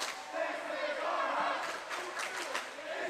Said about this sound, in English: The crowds are being real loud.